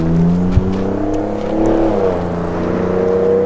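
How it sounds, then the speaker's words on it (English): Ford Raptor truck engine revving loudly and close, a sustained throaty roar that swells and holds steady for a few seconds, heard alone. "That Raptor's louder than your Miata."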